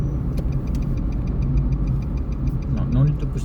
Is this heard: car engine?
yes